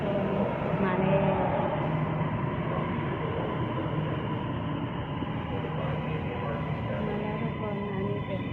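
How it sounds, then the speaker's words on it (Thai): A Bangkok Blue Line metro train pulls into a station, a sustained rumbling rush of wheels and motors with a faint squeal, holding steady throughout with no voices. "ตอนนี้ก็กำลังรอขบวนรถไฟเที่ยวแรกเนาะทุกคนมาแล้ว"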